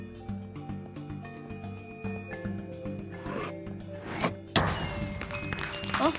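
Pickaxe hits in the video game Minecraft: a rapid series of short percussive thunks, fairly close and loud, over layered game music and effects, ending in a bright crash.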